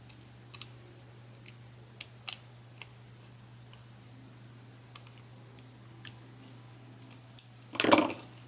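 Scissors snipping paper for an ornament card, a series of small, sparse clicks and snips spread across a quiet room with a steady low hum, ending in a louder rustling crunch.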